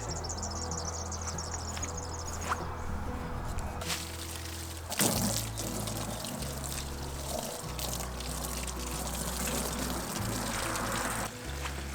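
Water pouring through a filter outdoors, a steady trickling pour with a changing flow, fairly close, with insects chirping in the background and no talk.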